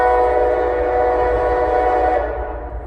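A westbound CSX mixed freight train led by two locomotives, hauling many tank cars, passes through Galatea with a loud, sustained horn blast over rumbling that fades slightly at the end.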